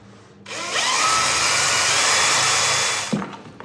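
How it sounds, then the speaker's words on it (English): A power drill bores through bathroom laminate, starting abruptly into a loud, steady whine that holds for about two and a half seconds before cutting off, with a faint clunk at the end. "I go up in size with the drill bit"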